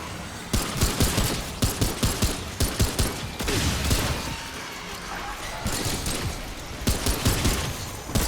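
Rapid bursts of gunfire from the video game Remnant II, loud and close, come in repeated volleys with short gaps, along with a few crashing impacts.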